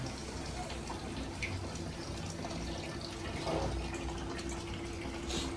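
Water runs steadily from a tap, filling a container for a bath with a continuous rushing splash; faint voices come and go beneath it.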